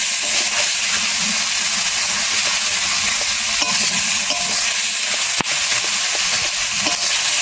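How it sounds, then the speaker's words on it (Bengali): Spiced paste for Bengali aloo dum frying in hot oil, a steady close hiss and sizzle with light stirring and occasional sharp clicks throughout. "মশলা সব একসাথে পেস্ট করে রেখেছি, ফাটিয়ে রেখেছি ভালো করে, দিয়ে দিচ্ছি তেলে।"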